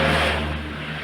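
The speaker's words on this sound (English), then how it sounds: "Just wait for that car to pass." A car drives past outside, its engine hum and tire roar loudest at the start and then slowly fading as it moves away.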